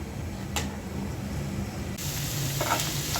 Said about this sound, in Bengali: পেঁয়াজ রসুন আর কাঁচামরিচ দিয়ে সরিষার তেল দিয়ে ভেজে নিচ্ছি